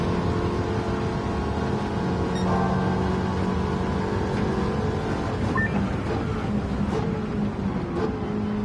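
A race car engine drones in Gran Turismo, a sustained mechanical hum with shifting tonal lines as it short-shifts up through the gears while running in a slipstream, steady and loud throughout.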